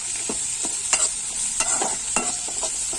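Onion, curry leaves, green chilli and garlic are stirred in a pan over a constant sizzle, the spoon scraping in about half a dozen distinct strokes at irregular intervals, close and clear, with no talking.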